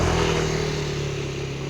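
A motorcycle engine drones nearby on a rural road, fairly loud and steady at first, then fading slightly as it goes by, with no voices over it.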